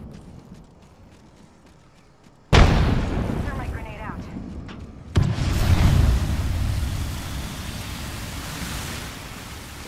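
Frag grenade blast in a multiplayer shooter video game, a sudden loud broadband burst with a rumbling tail, then a second heavy blast that trails off into a long noisy decay.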